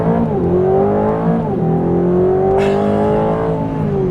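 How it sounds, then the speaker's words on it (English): Engine exhaust of a 2026 Aston Martin Vantage S accelerating on the Pacific Coast Highway, a loud, close, continuous rising drone with gear-change dips and resuming climbs, no talking. "It's a great exhaust note too. Yeah, that's a really good sound that we're hearing out of this vehicle."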